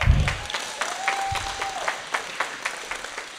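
A political audience claps at a candidates' event, a moderate burst of applause with uneven, scattered hand claps that thins toward the end, while a brief tone and a bit of voice sound beneath it.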